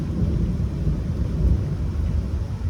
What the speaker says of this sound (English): This storm is something else.